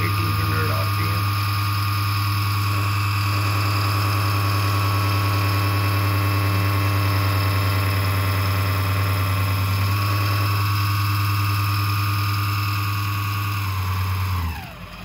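A 48V 500W Chinese brushless BLDC motor belt-drives an Emco Unimat SL1000 lathe, giving a loud, steady whine with a strong low hum and high tonal overtones that holds evenly, then winds down at the end.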